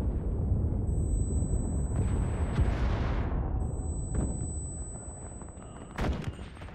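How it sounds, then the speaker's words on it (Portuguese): Bombs burst one after another on a D-Day Normandy beach landing in Enlisted, heavy booming blasts over a dense rumble of battle, with one sharp, close explosion near the end. "Ó, estão tacando bomba"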